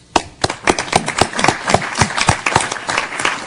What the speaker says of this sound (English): I think we really ought to give him a good round of applause